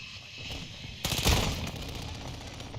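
A shotgun blast rings out in Warzone, a single loud, sharp report followed by a brief echoing tail amid quieter game sounds.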